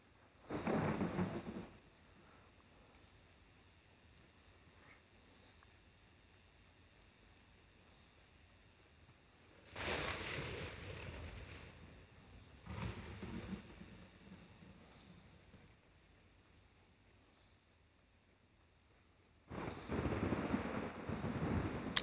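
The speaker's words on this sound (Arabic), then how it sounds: "والله عاصفة رعدية" A thunderstorm with rain in the video game Raider Six: deep thunder rumbles roll in about four times over a steady, quiet hiss of falling rain, with no talking.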